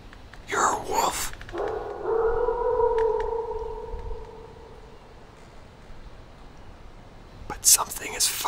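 A long, drawn-out wolf howl played as a sound effect in a spooky Halloween picture-book reading; the steady tone swells and fades over several seconds after a short burst of noise, with faint sounds at the end.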